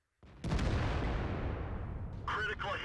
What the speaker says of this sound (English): We hear the heat round hit the tank, but unfortunately it gets absorbed by the tracks.